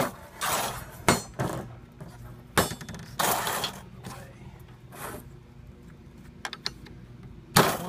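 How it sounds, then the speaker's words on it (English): Light hammer taps as a Snap-R snap bar is knocked onto a ribbed rebar hook bar on a bench, several sharp metallic clicks and knocks at close range, spaced irregularly with quieter handling noise between. "give it one little tap"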